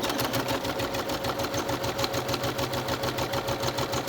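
A sewing machine runs steadily, stitching the lining piece of a fabric courtesy mask around a curve with a short back stitch, its fast even mechanical whir continuous and close with no talking.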